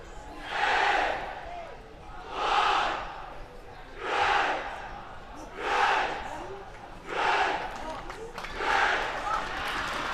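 Grey High schoolboys in the stands chant a rugby war cry as a crowd, six loud rhythmic surges rising and falling at steady intervals against a continuous roar.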